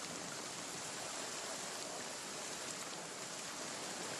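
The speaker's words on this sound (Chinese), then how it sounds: "下雨呢" Rain falls in a soft, even, continuous hiss in a scene from an ancient-costume drama, faint and unbroken with no voices.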